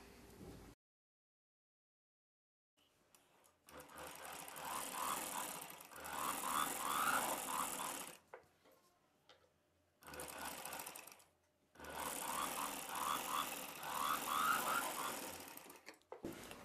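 A sewing machine stitches around the neckline of an umbrella dress in two long bursts of steady whirring, separated by short pauses, close and fairly loud with no talking.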